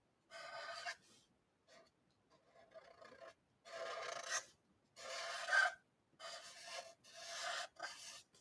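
Chisel-tip marker scratching across paper in several quick, raspy strokes with short pauses between them, fairly close and dry, no talking.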